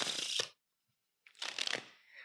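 Playing cards riffled together in a Pharaoh shuffle, two short crisp bursts of rapid card flutter separated by a silent pause, close and clear.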